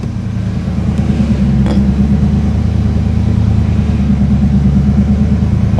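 A 1989 5.0 engine with 260,000 miles, which idles fast, rumbles steadily and close as the car eases slowly away. The drone is loud and even, with no talking over it.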